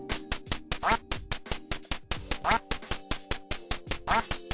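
Rapid, repeated electronic duck quacks in a steady rhythm from a video game's hidden duck-rain ending, layered over looping game music with sustained tones; loud and close, no talking.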